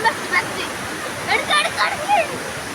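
Water rushing along a small village stream, a continuous broad wash of flow with brief splashy surges, heard close with people talking over it.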